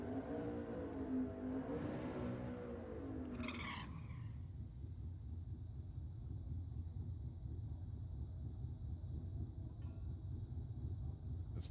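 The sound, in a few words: race car burnout, feathering the throttle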